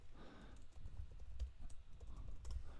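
Computer keyboard keys being typed while a track name is entered in music mixing software, a short burst of quick, close, light clicks at an uneven pace with no talk.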